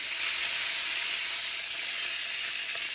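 The fatty edge of a T-bone steak sears upright in a hot pan, held with tongs, giving a steady loud sizzle and hiss that runs unbroken throughout with no voices.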